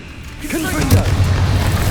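A Confringo blasting spell explodes in the Hogwarts Legacy video game: a voiced incantation-like sweep gives way to a loud, sustained low boom and rumbling crackle lasting about a second, with dense noise throughout.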